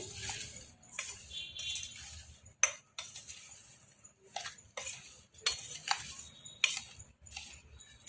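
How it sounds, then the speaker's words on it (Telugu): Black grape pickle being mixed by hand with salt, chilli powder and fenugreek powder gives close, intermittent scraping and light clinks of a spoon against a bowl, in short bursts with quiet gaps. "ఇది ఒకసారి ఎంత ఉప్పు కారము మనం వేసుకున్న మెంతి పొడి ఈ ముక్కలకి ఇంటికి కలిసేటట్టుగా కలుపుకుందామండి"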